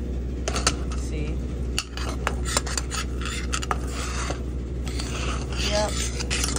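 Semolina halwa being stirred in a pan on a home stove, with a steady run of scraping and clinking from the utensil against the pan, close and continuous over a low background hum.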